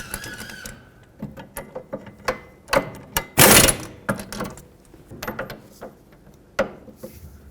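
Ratchet clicks in quick, uneven bursts as bolts on a rear brake caliper bracket of a 2001-2007 Toyota Highlander are tightened, with a louder metallic clatter midway, close up and with no talking.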